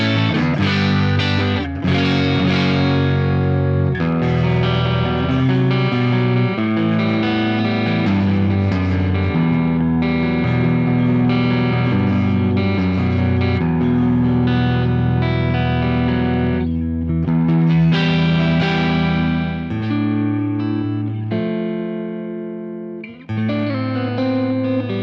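Harley Benton electric guitar played on the neck pickup through heavy distortion, chugging chords and sustained riffs ringing out loud and alone with brief pauses between phrases.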